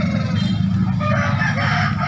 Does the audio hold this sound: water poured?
no